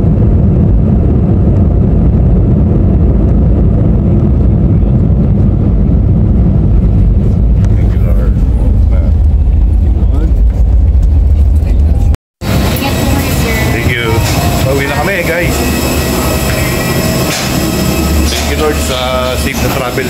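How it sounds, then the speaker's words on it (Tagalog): An airplane descends slowly and lands: a loud, steady low cabin roar with wind-like rush, then an abrupt break followed by brighter rattling and squealing noise as it touches down. "unti-unti na pong bumababa at malapag ang aeroplano"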